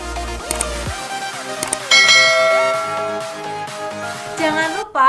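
A bright notification bell effect, a few ringing chimes with layered tonal strikes and sweeping sound-effect flourishes, loud and alone without talk.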